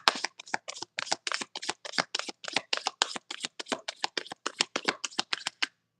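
Tarot cards are shuffled and drawn in a quick, steady run of crisp riffling flicks and snaps, close and alone with no voices.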